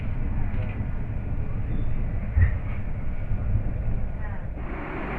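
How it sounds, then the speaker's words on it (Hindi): The Siddhabali Janshatabdi Express rumbles along its rails into Hapur Junction, a steady low rolling noise heard from inside the train with a faint horn partway through. "ट्रेन अपने तीसरे हॉल्ट हापुड़ जंक्शन पर पहुंच चुकी है"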